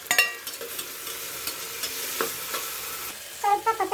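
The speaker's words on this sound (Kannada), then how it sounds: "ಫ್ರೈ ಆದಮೇಲೆ ಅದರ ಸ್ಮೆಲ್ಲೆಲ್ಲ ಹೋದ್ಮೇಲೆ ಟೊಮೆಟೊ ಹಾಕ್ತಾಯಿದ್ದೇನೆ." Ginger garlic paste and tomato for mushroom biryani frying in a pan, a continuous soft sizzle with a few sharper scraping stirs near the start and end.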